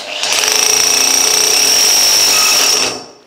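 A hammer drill with the hammer action on bores into a house wall to start recesses for flush-mounted electrical boxes, giving a loud, close, steady rattling grind for about three seconds before it stops.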